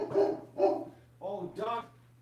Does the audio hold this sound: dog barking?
yes